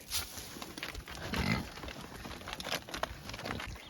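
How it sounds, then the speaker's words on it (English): A noisy bunch of pigs on an off-grid homestead grunting and snuffling close by, with irregular oinks, shuffling and patter over faint background rustle, fairly quiet overall. "How can I forget about such an incredible, noisy bunch of pigs?"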